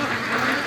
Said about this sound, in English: Let's look at that for a mess of ducks headed down here.